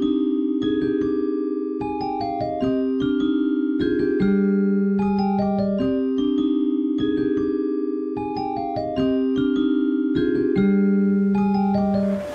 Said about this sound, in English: with the Vespertone bank, it sounds like this.